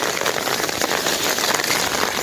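Heavy storm rain in Laos, flooding rice fields, pours in a dense, even hiss with no break, loud and close and with no voices.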